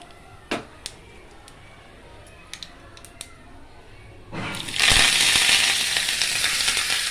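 Fennel seeds and curry leaves hit hot oil for a soup: a few faint clicks and pops give way to a sudden loud, steady sizzle that holds to the end, close up.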